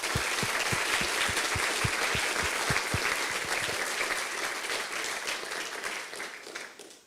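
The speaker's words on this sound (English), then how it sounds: "want to give them all a really good round of applause" Audience at a physics conference plenary gives a round of applause, dense steady clapping with a few sharp nearby claps early on, fading out gradually toward the end.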